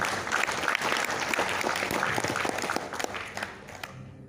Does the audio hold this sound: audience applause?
yes